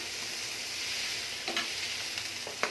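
Tomato and green chili sauté quietly in a pan for paneer butter masala: a soft, steady sizzle with a couple of brief spatula scrapes near the end, and no voices.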